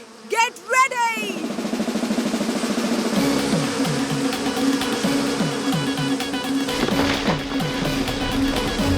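Bees buzz in an animated 3D cartoon, a cluster of rapid whooshing buzzes up front followed by a steady droning hum with repeated swooping chirps and pulses, a busy swarm sound without speech.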